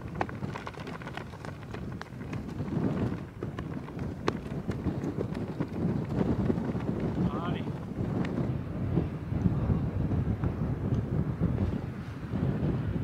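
Steady wind buffeting the microphone on the Ardglass golf links, a constant low rumble and roar that fills the whole stretch with no pauses.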